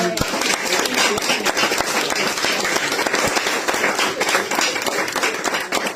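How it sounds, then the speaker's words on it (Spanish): Audience applause at the close of a talk on labour reform, a steady wash of clapping that fills the whole stretch and holds at an even, fairly loud level. "le damos un fuerte aplauso"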